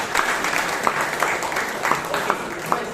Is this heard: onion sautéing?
no